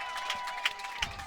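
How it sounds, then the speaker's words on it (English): A rugby crowd at an outdoor Wisconsin high school D1 championship match gives faint, distant applause and cheers, with a few brief louder claps standing out against a steady background murmur. "the crowd's appreciating the play of Nicolet in their championship"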